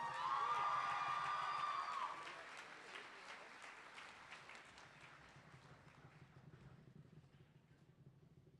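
A crowd at a college commencement ceremony applauds loudly for about two seconds, then the clapping thins into scattered, softer claps that fade out.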